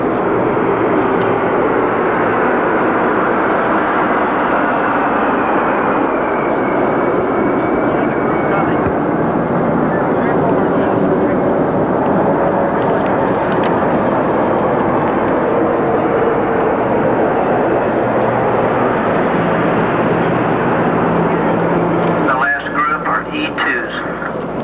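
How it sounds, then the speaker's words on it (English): Military jets of the French air force, the US Air Force Thunderbirds and the Navy Blue Angels fly over the 1986 Operation Sail opening ceremony, giving a loud, sustained roar with a continuous crowd-and-engine wash. A sharper burst comes near the end. "part of the flyover conducted by the French, the Thunderbirds from the U.S."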